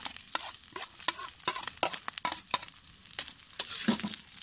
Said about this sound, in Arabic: احمسه ويا الشحم